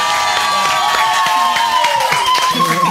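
A game-show or event audience claps and cheers lightly, a steady wash of hand claps and shouts running under a sustained music tone and a presenter's voice.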